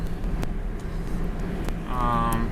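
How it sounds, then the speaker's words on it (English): A 2001 Ford Mustang 3.8 held in third gear at 2000 RPM with a shaking misfire, producing a continuous low engine drone and rumble with a couple of faint knocks and a rising tonal whine near the end. "Third gear with 2000 RPM. Shaking but not as bad."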